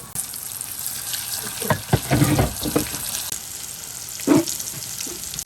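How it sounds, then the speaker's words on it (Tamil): Oil sizzles and crackles steadily as marinated fish fries in a pan, with a few louder bursts and clatters of movement, and no talking. "இப்போ இந்த மேரினேட் பண்ண ஃபிஷ் வந்து நம்ம பொரிக்க போறோம்"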